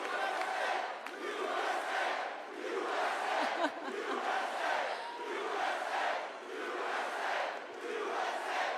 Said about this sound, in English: This is a nice crowd.